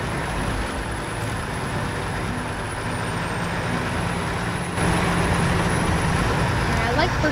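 Heavy 6x6 truck engine in SnowRunner drones steadily and loudly throughout, growing louder near the end, with rumbling gear and a voice speaking over it.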